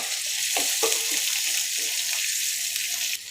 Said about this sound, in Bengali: প্রথমে কড়াইতে তেল দিয়ে পেঁয়াজ দিয়ে এটাকে ভেজে নেব